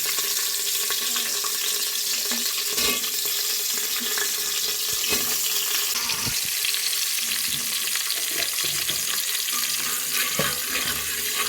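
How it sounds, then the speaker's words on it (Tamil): Curry leaves, small shallots and garlic frying in hot oil in a pan, a steady broadband sizzle running throughout with a few sharper crackles and pops, close and fairly loud with no talking. "கருவேப்பிலை போட்டு பயங்கரமாக அடுத்து பார்த்தீங்கன்னா சின்ன வெங்காயம் பூண்டு சேர்த்திக்கலாங்க"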